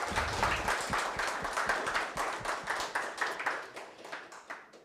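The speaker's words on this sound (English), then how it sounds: "So once again, round of applause for Katarzyna." Audience applause for the speaker Katarzyna at a robotics and AI club event, a modest group of distinct claps that thin out and fade over a few seconds.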